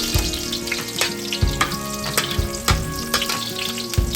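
Four cloves of chopped fresh garlic fry in two tablespoons of oil in a pan. A loud, close, crackling sizzle is punctuated by regular clacks of stirring about twice a second.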